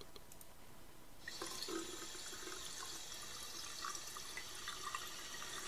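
Hot water bursts from a tap in a point-and-click adventure game, starting abruptly after a quiet moment and then running as a steady faint splashing stream.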